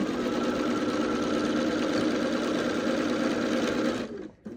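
A sewing machine stitches quilt pieces in a fast, even mechanical whir close by, running steadily for about four seconds before stopping abruptly.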